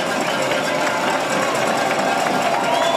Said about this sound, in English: this big crowd again coming to life here on the home side